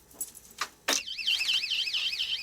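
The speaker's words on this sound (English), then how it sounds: "That's the alarm." An electronic alarm kicks in with a loud, warbling siren tone that rises and falls rhythmically and continues steadily, following a few short clattering knocks just before it starts.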